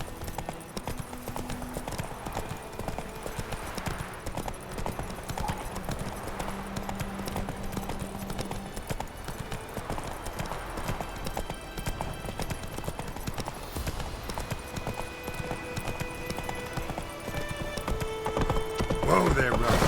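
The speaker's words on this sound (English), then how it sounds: "Whoa there, Roach" Horse hooves clip-clopping steadily in The Witcher 3 video game, a continuous rhythmic trot under dense game sound, with a horse whinnying at moments.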